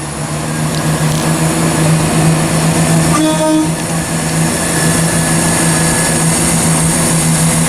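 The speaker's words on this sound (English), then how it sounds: "Making its departure now is 11:47 West Midlands Railway service to Birmingham New Street." A Class 170 West Midlands Railway train departs Shrewsbury station, rumbling steadily with a low, constant engine drone, and a brief horn-like tone sounds midway.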